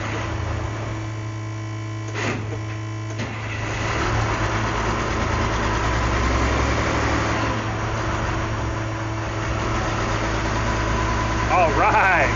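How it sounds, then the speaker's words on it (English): An Army M35A3 military truck engine idles with a steady low rumble and hum, its tone unchanging for the whole stretch. "we've got a running truck"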